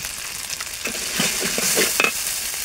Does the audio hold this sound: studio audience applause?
no